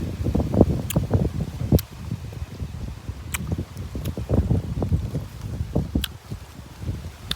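Strong wind gusts through a cherry tree heavy with ripe fruit, a low buffeting rush with rustling leaves and a few sharp crackles. No voices are heard.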